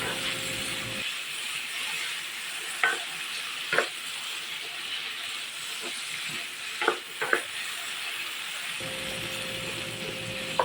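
Chicken seasoned with salt and black pepper fries in a pan for a kinamatisang chicken with potatoes, giving a steady bright sizzle with occasional clinks of utensils, and no one talking.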